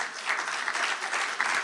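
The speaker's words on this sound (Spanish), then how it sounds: "Dale un aplauso al Señor." A congregation at a church service claps together, a short, fairly loud burst of many hands with a lively, slightly uneven patter.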